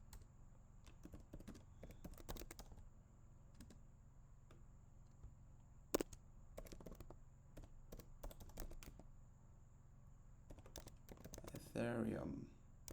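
Quiet typing on a computer keyboard, irregular clusters of light keystroke clicks with pauses, plus one sharper tap; a brief voice surfaces near the end.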